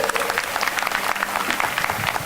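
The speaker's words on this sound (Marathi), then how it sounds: "जोरदार टाळ्या सरांसाठी होऊ देत." Audience applause at a college prize distribution ceremony, a dense, steady burst of many hands clapping together that fills the hall for the whole stretch, with no speech over it.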